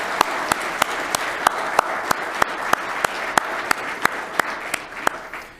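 An audience at a company keynote applauds, with sharp, distinct claps at a steady rhythm standing out over a softer bed of clapping for the whole stretch.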